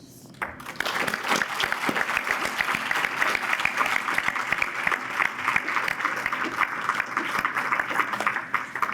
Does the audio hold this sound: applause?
yes